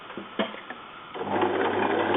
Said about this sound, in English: keep sewing all the way down to that point